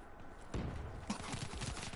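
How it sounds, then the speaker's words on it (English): A pump shotgun fires in a video game, two loud close blasts followed by rattling action and gunfire-like clatter. "There we go, pump shotgun."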